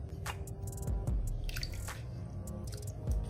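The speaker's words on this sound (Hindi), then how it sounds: "ये पानी मैं तकरीबन 2 टेबल स्पून इसके अंदर भर के डाल रही हूँ" Pickle brine from a jar of pickles, about two tablespoons, poured into a chicken marinade for Nashville hot fried chicken, giving soft wet drips and squishy splashes close up with no talking.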